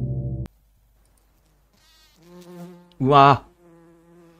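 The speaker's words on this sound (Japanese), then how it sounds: "ハエがたかってる。" Flies buzzing in the horror video game Lucy, a high whining drone that swells briefly and loudly, with a man exclaiming in reaction nearby.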